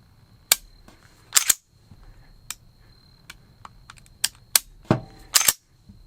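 Crisp mechanical trigger pull and reset clicks from a Steyr M9 pistol sound close up, some in quick pairs, spaced irregularly over a faint background hiss.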